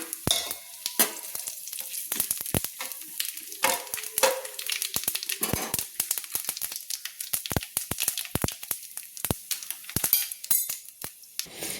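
Whole spices, bay leaves, green cardamom and cinnamon, sizzle and crackle in hot oil for tempering a vegetarian Bengali curry, with a steady spitting fizz and sharp pops throughout, plus an occasional scrape of a utensil.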